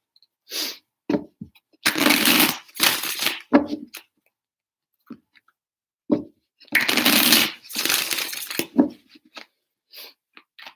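Tarot cards are shuffled by hand in three bursts, each a dense, crisp riffle of a couple of seconds with small taps and knocks between them, close up and with no talking.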